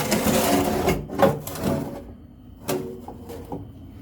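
The ash drawer of an Ogniwo Eko Plus 16 kW coal boiler slides open with a scraping metal rasp, followed by a few sharp knocks and clunks while the boiler is running.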